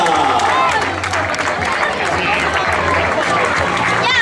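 Spectators at a paired footrace in Moraña clap and cheer as runners pass, a dense close crowd sound with a voice talking over it throughout.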